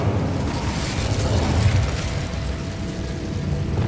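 In the Hogwarts Legacy video game, an Incendio fire spell goes off as a low, rumbling burst of flame that churns steadily for a few seconds.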